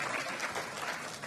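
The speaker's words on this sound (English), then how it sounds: "Nice ripple of applause from the crowd there." A crowd at a WDF Lakeside World Championships darts match claps in a steady, dense ripple of applause that fills the hall evenly.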